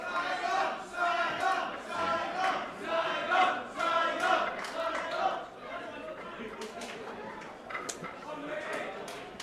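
A crowd in Saigon (Ho Chi Minh City) cheers and shouts during a Singapore versus Phnom Penh pool match at the 2016 Asia Pool Challenge, with loud, surging waves of many voices that ebb slightly toward the end.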